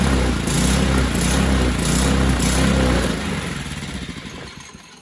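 A junk-pile mini bike engine runs with the choke on, a steady loud chugging idle for about three seconds before it winds down and fades out.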